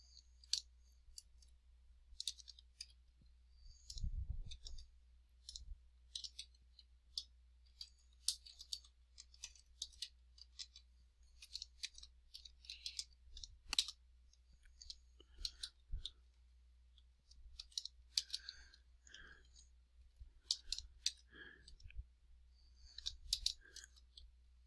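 Quick, irregular clicks of typing on a computer keyboard, quiet and close, running steadily with small pauses and a few heavier taps, with no talking over them.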